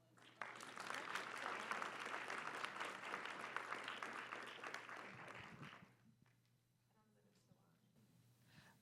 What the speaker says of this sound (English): how about we give a quick round of applause to our panelists?